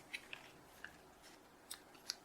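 Small craft scissors snipping black and gold twine wrapped around a handmade card; several quiet, sharp clicks spaced irregularly, close and faint with no talking.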